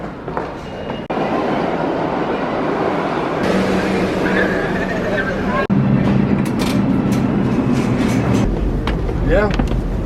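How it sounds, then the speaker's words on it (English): A New York City subway train rumbles and rattles along the tracks, a loud, continuous roar with shifting tones and metallic screeches inside the car, while people talk in the background. "We're gonna hop on the subway and go meet her in Brooklyn."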